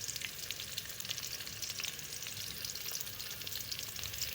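Onion frying in ghee gives a steady, dense sizzle with a crackling hiss that stays even throughout, close by and moderately loud, with no voices.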